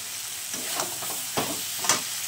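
Eggs and potatoes with coriander powder sautéing in a pan, a soft steady sizzle broken by a few brief stirring scrapes, close and fairly quiet.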